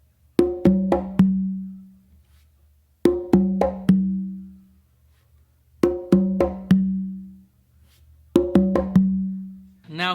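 A makuta rhythm played on three congas repeats in four clear phrases. Each phrase is a quick cluster of crisp slaps and open tones that ends in a ringing low tone, with short silent gaps between phrases. The drums are close and there is no talking.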